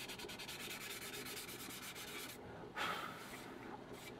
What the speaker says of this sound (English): Okay, so that's had a good sanding now.